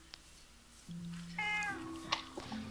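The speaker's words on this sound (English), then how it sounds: "There's your damn cat again." Cat meowing in a town-building video game, several short separate meows over quiet background, fairly close and moderately loud, no talk over them.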